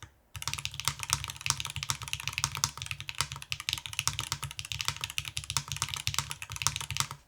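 Steady typing on a NIUNIU HX-40 mechanical keyboard with an FR4 plate, dense rapid keystrokes with deeper clacks mixed in, close and continuous for several seconds with no talking.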